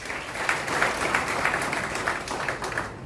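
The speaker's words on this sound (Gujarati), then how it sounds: "તેને માટે તાળી પાડો" Steady audience applause fills a public meeting hosted by the Morbi district police in Wankaner, a dense, continuous patter of many hands clapping at even loudness throughout.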